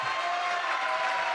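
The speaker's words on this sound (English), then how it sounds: "The student section is cheering" Student section cheering at a small-college basketball game, Hampshire at Santa Fe, a steady dense crowd roar filling the gym, loud and continuous with a sustained tonal hum running underneath.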